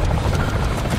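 An enemy helicopter in the DMZ game, a loud, steady rotor thrum with a rumbling low drone throughout a brief moment.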